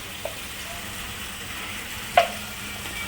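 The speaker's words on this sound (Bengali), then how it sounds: "পেঁয়াজ আর টমেটোটা একদম লাল লাল করে ভাজা হয়ে গেছে এবার মশলাটা দিয়ে দিলাম" Onions, tomatoes and spices frying in a pan for a home chicken curry, a soft steady sizzle broken by two small clinks of a utensil.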